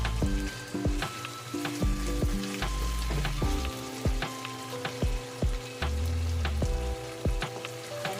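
Plenty of garlic sizzling in a pan for pork adobo: a steady, close crackling fry punctuated by regular scraping and tapping of a spatula against the pan.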